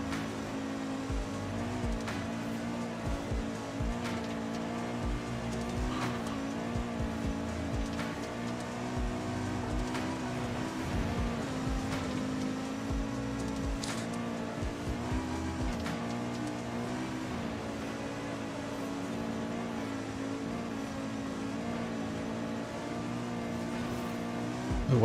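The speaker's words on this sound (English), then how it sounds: "the car sounds way different from inside" A car engine in Forza Horizon 5, heard from the interior camera, drones steadily at moderate level with shifting revs and occasional surges, no talk.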